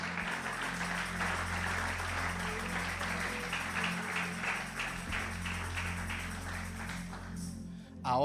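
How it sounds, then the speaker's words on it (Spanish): A church congregation applauds its Lord in a sustained, dense patter of many hands clapping at an even level for several seconds, then the clapping fades and stops near the end. "Un aplauso fuerte al Señor."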